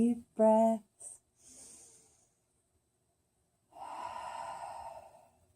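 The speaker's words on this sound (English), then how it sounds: "Just a couple more nice deep breaths." Slow, deep breathing during a yoga session: a few short nasal puffs, then a pause, then a long, steady exhale up close and fairly soft, with a brief voiced sound at the start.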